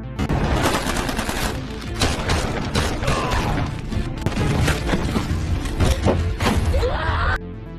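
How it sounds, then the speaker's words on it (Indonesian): Rapid gunfire and bursts of automatic shots during a film chase shootout with mercenary soldiers, loud and dense with booms, clatter and shattering, continuous for most of the scene before cutting off abruptly. "Hingga terjadilah aksi kejar-kejaran yang diwarnai baku tembak"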